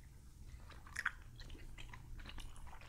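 Chewy, crunchy bites of tteokbokki, Korean rice cakes, close to the microphone: soft, moist mastication and small crunches repeating steadily, fairly quiet against a low background hum.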